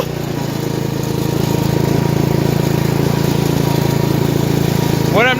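A Sears Lil'Poppy lawn mower engine runs steadily and loudly close by, with a constant droning putter throughout and a brief squeaky sound near the end.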